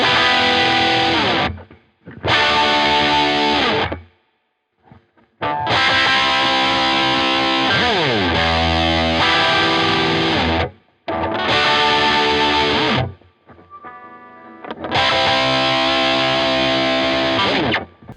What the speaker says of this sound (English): it's just a very simplistic distortion sound